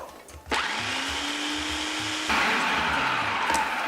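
A blender whirs loudly and steadily, pureeing pitted dates with a tablespoon of date water, its motor note shifting and growing harsher partway through as the thick mixture churns, with no talking.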